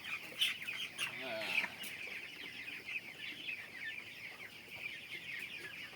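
Twenty-day-old chickens cluck and peep in a steady, busy chorus, a close flock murmuring continuously with a few louder calls early on.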